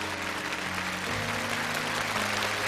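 A studio audience at a televised Chinese challenge show claps in sustained, even applause, with steady low tones of stage music running underneath.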